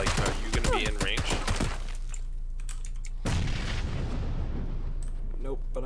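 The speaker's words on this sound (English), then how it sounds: "shoot, I'm getting shot at" Video game gunfire in PUBG rings out as a quick burst of sharp cracks at the start, followed by a low background hum and a few scattered distant shots, with voices talking over it.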